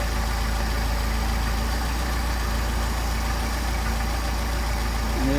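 A Mercedes 190SL engine with Solex carburetors idles steadily and evenly, a close, continuous low chugging rumble with no break across the whole stretch.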